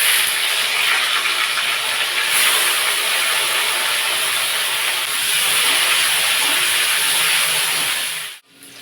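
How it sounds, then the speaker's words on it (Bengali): Kada fish dropped into hot oil in a kitchen, giving a loud, steady hiss and sizzle that runs unbroken for several seconds before cutting off abruptly near the end. "তেল গরম হয়ে গেছে, এবার মাছগুলো দিয়ে দেব।"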